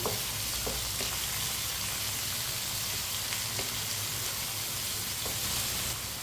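Finely chopped tomatoes cook in a pan with fried potatoes and okra for aloo bhindi, making an even, dense sizzle close by, with a few faint stirring clicks and no pauses.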